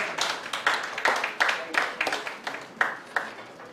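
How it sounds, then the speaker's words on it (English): Audience applause at a business growth presentation as the founder of MSME Africa takes the stage, a moderate room-wide patter of clapping with recurring swells, alone without speech. "Let's give him a warm round of applause."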